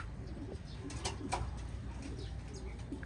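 Farm pigeons after a bath cooing softly, low and somewhat distant, against a continuous rustle that may be fluttering feathers, with no voices.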